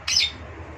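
A white-rumped shama, or murai batu, in a breeding cage gives one short, harsh, high squawk, close and clear, followed by faint background noise.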